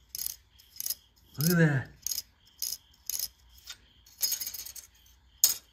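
Hardened high-temperature refractory glue is tapped and knocked, giving sharp, ringing metallic clinks in irregular bursts, close and fairly quiet, with a short spoken remark partway through.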